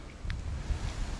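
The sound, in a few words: wind blowing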